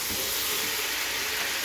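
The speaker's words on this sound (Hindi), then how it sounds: "और अब चिकन को अच्छे से फ्राई करेंगे" Chicken with ginger garlic paste frying in a pan for chicken nihari, a steady, close, broadband sizzle and hiss that holds evenly throughout with no talk.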